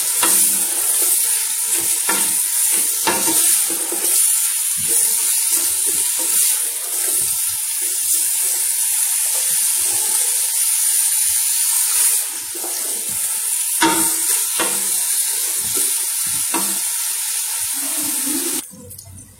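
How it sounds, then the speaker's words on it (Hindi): Onions fry in hot oil in a cooking pot, giving a loud, steady, close sizzle with occasional stirring scrapes and no talking. "प्याज फ्राई हो रहे हैं"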